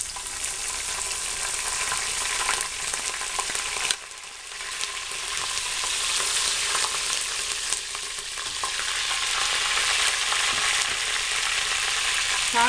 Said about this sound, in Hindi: प्याज को हल्का सा फ्राई करें और हरी मिर्चें डाल दें।